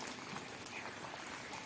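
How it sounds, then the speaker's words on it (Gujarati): Rain falls steadily and evenly on surfaces as a dense, continuous patter with no voices, on a rural Gujarat day while cattle stand out in the wet. "હવે વરસાદ રહી ગયો પાછો મારો ચાલુ થઈ ગયો"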